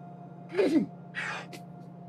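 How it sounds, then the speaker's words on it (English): A single close sneeze, a quick intake followed by a sharp burst and a short trailing breath, over a low steady hum in a quiet room. "I'm gonna sneeze probably."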